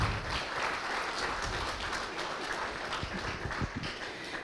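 A town hall audience applauds steadily for a few seconds, the dense clapping fairly distant and soft, with no voices over it.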